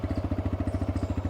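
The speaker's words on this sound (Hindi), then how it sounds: "इधर एग्जॉस्ट नोट सुनिएगा।" Exhaust of a TVS Raider 125cc motorcycle idling, a close, even putter of rapid regular pulses over a short stretch.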